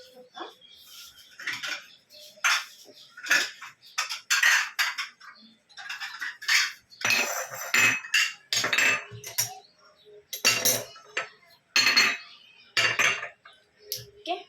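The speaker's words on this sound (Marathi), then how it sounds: "मी आता कप घेऊन घेत आहे आणि बश्या घेऊन घेते" Cups and saucers being taken out and handled at home, with a run of sharp clinks and clatters of crockery coming close and irregular, some louder knocks, over a quiet room.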